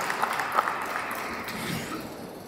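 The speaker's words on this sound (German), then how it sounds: "Dein Applaus." An audience at a startup pitch event on a stage at the CMT 2024 fair in Stuttgart applauds, a steady wash of clapping throughout that stays fairly loud, with no one speaking over it.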